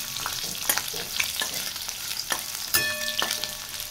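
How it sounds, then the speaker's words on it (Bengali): Onions sizzle in hot oil seasoned with curry leaves and mustard seeds, a close crackling fry with sharp pops and stirring clatter, no talking. "এরপরে তেলের মধ্যে পেঁয়াজগুলো দিয়ে দিলাম।"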